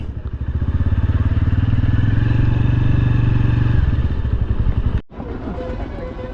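A motorcycle rides along a valley road at Patratu, its engine a loud, steady, close throb for about four seconds before the sound cuts off abruptly and faint background noise follows.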